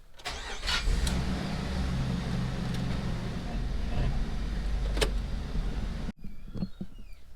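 A Jeep Rubicon starts up and rolls, its engine catching with a few clicks and settling into a steady mid-pitched running rumble close by, then cutting out abruptly near the end with quieter clicks after.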